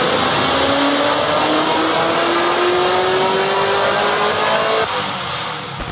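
A 700 hp supercharged LS-swapped Nissan Skyline revs hard on a track, its engine note climbing steadily in pitch as it pulls loud and close for about five seconds before dropping off abruptly.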